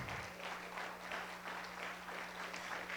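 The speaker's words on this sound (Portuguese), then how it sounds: "Aplauda Cristo Jesus" A church congregation claps along in a steady, rhythmic pattern, faint and distant through the whole stretch, with a sharp loud knock at the very end.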